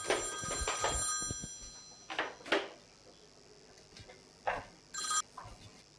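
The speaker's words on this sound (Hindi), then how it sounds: "साहब जी आपका फोन आ रहा है।" Telephone bell ringing in a quiet room, sharp bursts of metallic trilling repeating in short rings with pauses between them, alone and clear.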